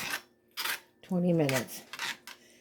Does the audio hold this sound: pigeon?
no